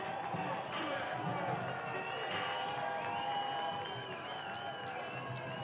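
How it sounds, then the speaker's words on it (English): A college football stadium crowd roars steadily on third down and two during a Braves game, a broad continuous wash of cheering throughout, with a commentator's voice talking over it. "Crowd making some noise."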